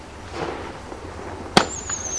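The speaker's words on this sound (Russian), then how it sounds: "Здесь, значит, 5 выстрелов. Стрелы Купидона называются." A single sharp crack of a Cupid's Arrows five-shot consumer firework, loud and abrupt, followed by a thin fading whistle-like trail over faint background noise.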